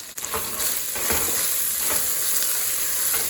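Whole spices, bay leaves, cinnamon stick, black cardamom, cloves and black peppercorns, sizzling steadily in hot oil with a dense, continuous crackle close by, no talk.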